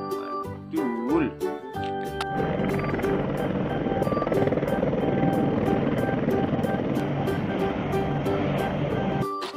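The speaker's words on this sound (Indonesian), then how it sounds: "Ada helikopter." A helicopter's rotor chops steadily and loudly with regular thumping beats, after a voice speaks at the start.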